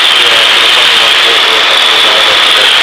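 A Cessna 152 light airplane in flight during a private pilot training lesson, its engine and propeller making a loud, steady, unbroken drone that fills the whole clip, up close inside the cabin.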